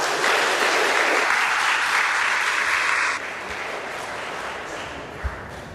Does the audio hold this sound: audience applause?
yes